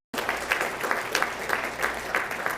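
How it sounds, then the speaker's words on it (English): Audience at a Hall of Fame induction ceremony for the Huntsman World Senior Games claps for Emily Ivy, a dense burst of steady applause from a crowd that starts abruptly and carries on evenly. "Let's have a round of applause for Emily Ivy."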